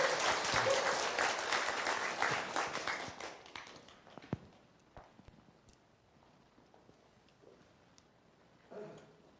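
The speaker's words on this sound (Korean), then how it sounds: "박수로 한번 맞이하겠습니다." A church congregation claps to welcome a guest speaker: loud applause that fades over about four seconds, then scattered thumps and shuffling noises in a quiet room.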